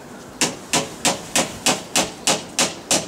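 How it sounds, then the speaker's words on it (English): A hammer drives draught-proofing strips into a wooden door frame, nine sharp evenly spaced bangs in a steady rhythm, close and loud with no talking. "you can actually get a much better swing of the hammer and bang them all the way in"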